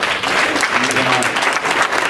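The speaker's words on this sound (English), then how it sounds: "continue just to give yourselves a round of applause" Audience at a student success dinner applauding itself, a dense, loud, sustained burst of clapping from a full room, with voices mixed in under it.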